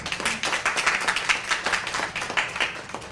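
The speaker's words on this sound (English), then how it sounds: "let's give him a round of applause" An audience at a forum on mental well-being gives the speaker a short round of applause: a few seconds of uneven, fairly sparse clapping from a modest crowd, heard alone without voices.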